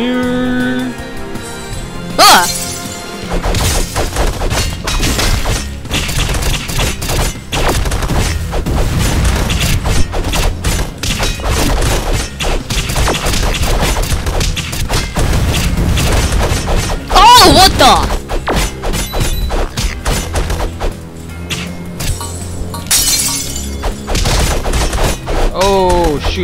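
Explosions and bursts of combat effects from the Castle Crashers video game, dense and loud throughout with repeated booms over game music, while people talk over the action.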